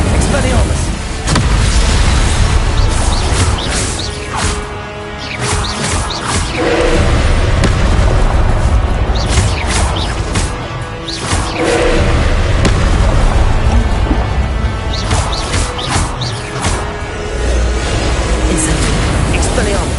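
Repeated booming spell blasts and thuds from Hogwarts Legacy on PS4 land loud and close over a dense rumble, with a voice shouting throughout.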